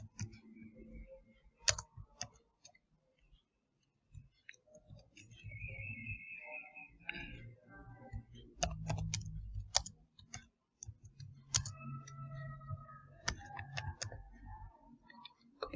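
Typing on a computer keyboard to fill in an online form, faint scattered key clicks in short irregular runs, with quiet room noise between them.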